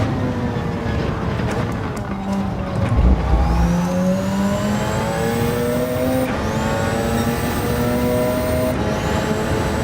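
Race car engine in a racing video game, revving loud and close and rising in pitch, then breaking off for quick upshifts at roughly three-second intervals, with a thud early on.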